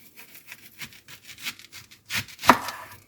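A knife cuts through half a red onion on a cutting board in a home kitchen, making a run of soft uneven slicing strokes that ends in one sharper chop.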